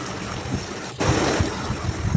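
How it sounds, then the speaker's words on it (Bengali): Elephant foot yam is washed with water, the splashing and pouring quiet at first, then a louder, steady rush of running water with irregular splashes from about one second onward. "ওলটা এখন ভালোভাবে ধুয়ে নেব।"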